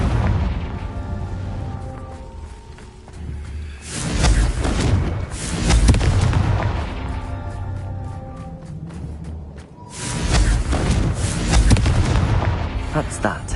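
Confringo fire spell blasts in a Harry Potter video game, heard as heavy, rumbling booms and explosive bursts that swell in two long waves, loud and dense, with voices mixed into the din.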